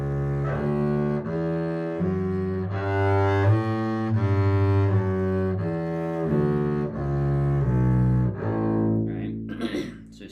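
A bowed string instrument playing a shiftless scale in two-note slurs, steady stepwise notes rising and falling in paired bow strokes, close and unaccompanied.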